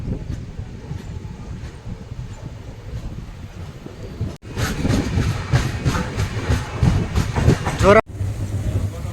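The 19260 Kochuveli Express running from Bhavnagar toward Ahmedabad rolls along the rails with a loud, continuous rumble and rhythmic clickety-clack, wind buffeting the microphone, and the noise swelling sharply partway through.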